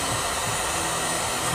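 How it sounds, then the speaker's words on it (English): A hair dryer blows in one steady, loud, continuous whoosh, used as a heat source on vinyl decals, with no talking. "if you do use a heat gun or a hair dryer"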